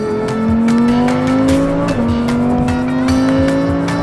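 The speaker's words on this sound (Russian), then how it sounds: "Огромный, кричащий атмосферный V10." A Lamborghini Huracan Performante with a naturally aspirated V10 screams close and loud, its engine note climbing steadily under hard acceleration, briefly dipping at a gear change, then rising again as the revs build.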